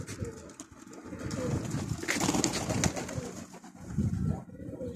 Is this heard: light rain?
no